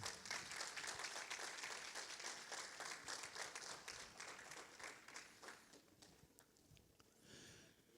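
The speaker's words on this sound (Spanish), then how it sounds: "Vamos a recibirla con un fuerte aplauso." A church congregation claps together in a lively round of applause, loud and dense at first, then gradually thinning to scattered claps and a few lingering hands before dying away.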